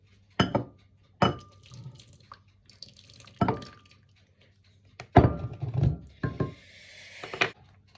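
Homemade 1940s-style potato soup with milk spooned into a bowl, several separate clinks and wet plops of the spoon against the bowl at irregular intervals, close and moderately loud, with quiet pauses between.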